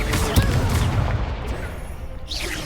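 A Confringo fire spell explodes in Hogwarts Legacy, a dense, loud booming blast with crackling fiery rumble that dies away over a couple of seconds amid game sounds.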